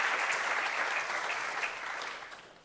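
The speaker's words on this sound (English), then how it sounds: "So again, a quick round of applause for our panelists." Audience applause for the panelists at a DLD Future Hub conference panel, a dense, steady wash of many hands clapping that holds for a couple of seconds and then gradually tapers off.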